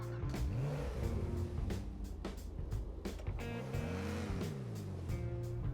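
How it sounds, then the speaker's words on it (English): The Komoda, a podium car in a GTA game, starts up and revs its engine, with repeated rising and falling throttle sweeps over a steady loud idle and no talk. "The car definitely has a nice sound"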